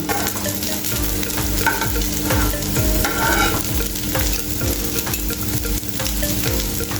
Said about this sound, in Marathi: आता आपली ही टिक्की दोन्ही बाजूने व्यवस्थित अशी फ्राय झालेली आहे